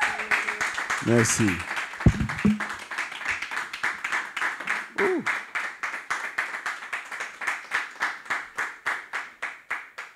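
A church congregation applauds after a testimony with steady rhythmic clapping that continues throughout, while a person speaks briefly early on.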